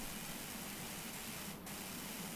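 A pressure washer sprays in the PowerWash Simulator video game, a faint, steady hiss of water jet running continuously with a brief dip near the end, no talking.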